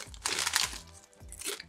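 Crunchy Swiss chocolate is bitten and chewed up close, giving several crisp, brittle crunches in quick succession.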